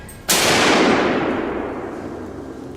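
A gun is fired at a wild boar during a hunt: one sharp, loud shot that bursts out suddenly and then fades over about two seconds in a long, rumbling tail, with no voices.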